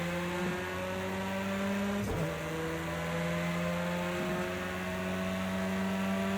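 Audi S1 EKS RX rallycross car in Project Cars 2 at Bathurst, its engine droning steadily and loudly as it accelerates through the gears, with a brief sharp shift break midway and no talk.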